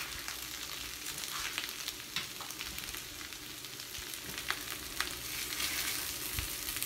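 A stir fry with eggs cooks in a pan, giving a steady soft sizzle and crackle at moderate distance, with occasional stirring scrapes and no talk.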